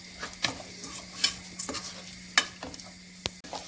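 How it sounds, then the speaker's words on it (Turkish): Rice toasting in a pan for Turkish pilaf, stirred with a spoon: soft sizzling under sharp scraping and clinking strokes at irregular intervals, close and fairly quiet, with no talk. "Güzel kavuracağım böyle. İyice kavuracağım."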